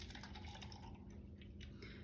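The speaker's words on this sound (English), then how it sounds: "So I'm gonna put a good amount of water in here." Cold water is poured into a styrofoam cup in a lab, a faint, soft splashing trickle that runs steadily for a couple of seconds with no talk.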